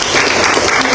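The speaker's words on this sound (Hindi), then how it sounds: "एक बार उनके लिए भी जोरदार तालियां।" Loud applause from a church congregation fills a brief moment, a dense steady patter of many hands with no pause.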